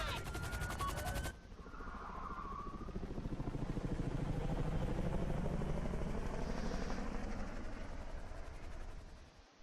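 A helicopter lifts off in GTA Online, its rotor thudding in rapid, loud pulses that build and hold, after a brief burst of a harsher sound at the start, then fade out at the end.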